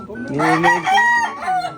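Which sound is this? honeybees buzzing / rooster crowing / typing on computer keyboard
rooster crowing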